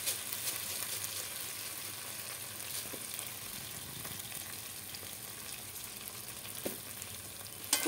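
A mixture of boiled potato and flour being stirred in a pan, a continuous close sizzle with faint scraping and a couple of soft knocks near the end, no voices.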